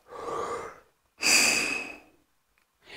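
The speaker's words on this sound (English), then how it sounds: "We're just going to blow air. Teeth are open and lips are open. Take a nice big breath." Two big breaths blown through a tuba mouthpiece with teeth and lips open, each a loud breathy rush of air lasting under a second, close, with a third starting at the end; no talk.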